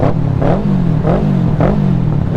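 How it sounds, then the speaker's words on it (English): Throaty motorcycle engine, close and loud, with a low, steady rumble and rhythmic pulses of revving about every half second, echoing off a nearby wall. "It just sounds like an MZ or something like that, with how like throaty it is."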